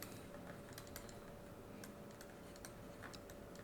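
Quiet, rapid clicking of keys on a computer keyboard as Python code is typed, light irregular taps over a low steady background hum, with no voices.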